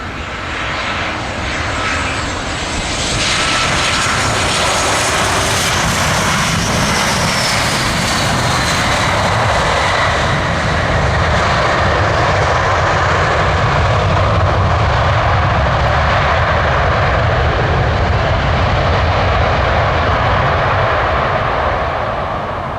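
United Airlines Boeing 737-700 jet engines roar loud and steady close by, a continuous broadband rush with a shifting whine. The sound builds over the first seconds and then holds.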